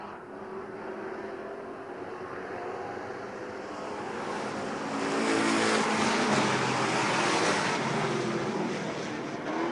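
A pack of race cars drives around an oval track at a season opener, engines roaring steadily at a distance and swelling louder midway as the field passes through the turns.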